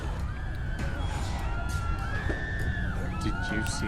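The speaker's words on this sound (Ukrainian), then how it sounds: "Ой-ой, крики на дворі." A crowd screaming and shouting outdoors in the Walking Dead 400 Days video game, a chaotic burst of distant yells and shrieks over a brief stretch.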